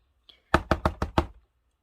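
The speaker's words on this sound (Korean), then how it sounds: "그때 다시 문을 두드리는 소리가 들리더니" Five sharp knocks on a door in an even, quick rhythm, close and loud, preceded by a faint brief tap, with no voices.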